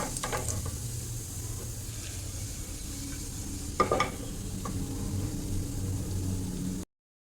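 Dry red chillies, bay leaves and whole cumin sizzle steadily in hot oil in a pressure cooker for khichuri, a soft continuous crackle with a brief stir clatter midway and no talk.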